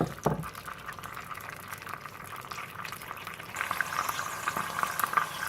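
A tomato pasta sauce thinned with pasta water simmers in a pot, bubbling and popping softly at close range; the bubbling thickens and grows busier toward the end, with no voices.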